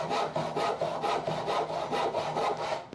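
A crosscut hand saw cuts through wood in steady back-and-forth strokes, each rasping pass loud and close, about four strokes per second with a slight slowing near the end.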